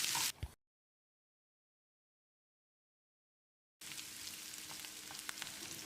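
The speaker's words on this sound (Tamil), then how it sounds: "வெங்காயத்தை கண்ணாடி பதத்துக்கு வதக்கிடலாம்." Onions with slit green chillies and asafoetida sautéing in a pan until translucent: a short burst of sizzling, a long dropout into silence, then a steady, close crackling fry that runs to the end.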